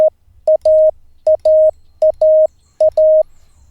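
Morse code tones being sent: a single steady pitch keyed in clear dots and dashes, loud and close, in short repeating groups over faint background noise, with no voices.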